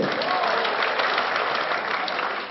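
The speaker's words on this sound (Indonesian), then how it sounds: "Sekali lagi aplaus paling meriah untuk Mbak Cici." Audience applause at a Surabaya entrepreneurship festival, a dense, steady wash of many hands clapping at close range that holds for the whole stretch, with no talk over it.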